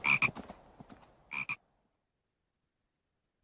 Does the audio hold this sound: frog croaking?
yes